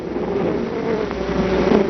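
Honeybees fan their wings inside a hive to cool it, giving a steady, dense buzzing hum that holds evenly and fairly loud throughout, with no voices.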